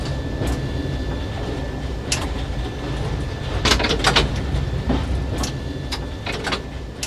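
London Underground tube train rumbling at a platform, a steady low mechanical drone with hissing and clunking bursts like doors and brakes, close and loud, no talk.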